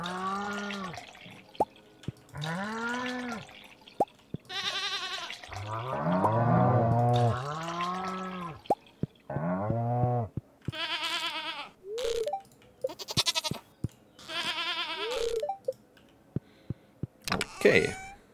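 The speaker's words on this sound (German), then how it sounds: "Seitdem die Ziegen hier drin sind" Goats bleat repeatedly inside a greenhouse in the farming video game Stardew Valley, a series of short wavering cries spaced across the span, mixed with dripping plinks and other small game sound effects.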